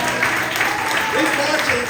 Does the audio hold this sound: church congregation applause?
yes